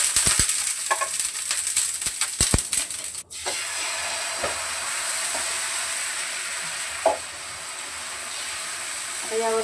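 Oil hisses and sizzles steadily on a hot griddle as a sago dosa fries, with a few sharp clinks of a utensil near the start and a continuous close crackle throughout.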